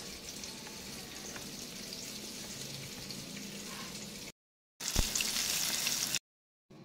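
Food sizzles and crackles in a hot frying pan, a continuous close crackle that cuts out briefly twice, with no talking.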